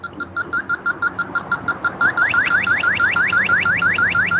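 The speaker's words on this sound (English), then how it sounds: "It's detecting that there's Freon there because I just punctured the access port." A refrigerant leak detector sounds off after detecting Freon at a punctured access port on an air-conditioning system: first a steady series of short, evenly spaced beeps, then a faster run of rising chirps, loud and close.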